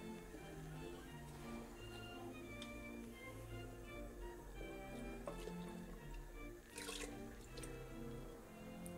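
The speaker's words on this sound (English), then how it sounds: "Now the rice is cooked 2 minutes and we can pour in the milk." Milk poured into a pot of rice cooking for rice pudding, a soft, quiet trickling and splashing of liquid over a low background hum.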